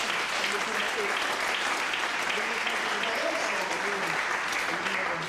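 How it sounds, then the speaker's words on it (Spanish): A church congregation breaks into sustained, even applause during a sermon on baptism, a dense wash of clapping holding steady throughout with faint voices mixed underneath. "Denle un aplauso a Yahweh por su palabra"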